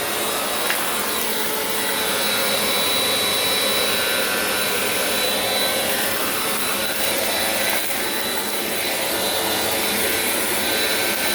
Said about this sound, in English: Here comes the Bissell Powerforce Compact 2112 in 3, 2, 1.